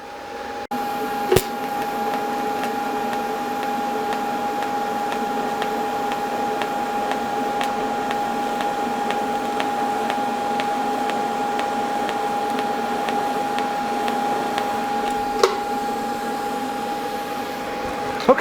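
A YesWelder Firstess CT2050 TIG welder running in pulse mode gives a steady electrical buzz with a constant high tone for about eighteen seconds, with a few sharp clicks at the start and end.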